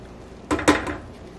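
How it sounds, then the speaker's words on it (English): A spoon stirs a pot of rice simmering in milk, knocking against the pot in a few quick, close clinks, then quiet. "So we're just gonna stir it"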